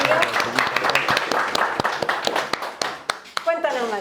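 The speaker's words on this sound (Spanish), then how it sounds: "Un aplauso para Matías." Live audience at a talk applauding a guest speaker as he is welcomed, a few seconds of moderately loud, dense clapping with one voice heard over it.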